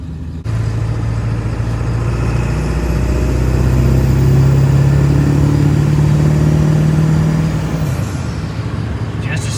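A Ford 7.3 Powerstroke diesel truck drives under its own power, its engine a loud, steady low rumble that holds for several seconds after a brief quiet start.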